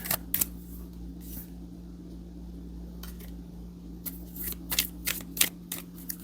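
Tarot cards being shuffled and drawn, soft scattered riffles and flicks of card stock, close and quiet over a steady low hum, with no talking.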